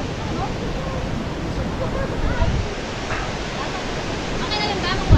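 Rushing water from Maranum Falls in Natividad, Pangasinan, Philippines roars as a constant, loud broadband wash, with voices faintly talking over it.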